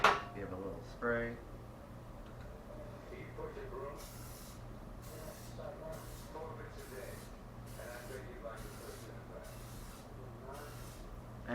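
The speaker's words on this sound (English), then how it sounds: "Give it a little spray." Cooking spray sprayed onto a non-stick muffin pan in a row of short hissing bursts, evenly spaced and close, after a brief moment of talking at the start.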